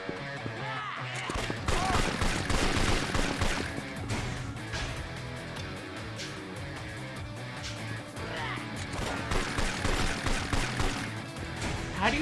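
Enemy gunfire in Yakuza 4, dense continuous shooting and impacts under constant game noise, with a person talking over parts of it.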